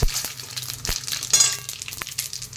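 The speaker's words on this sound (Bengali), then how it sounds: "এই তেলের মধ্যেই দিয়ে দেব ফোড়নের জন্য জিরে তেজপাতা আর গোটা গরম মশলা" Whole cumin, bay leaf and whole garam masala hit hot oil left from frying fish for a Bengali fish curry. A short, close crackle and sizzle sounds, with light clinks from a utensil and no voices.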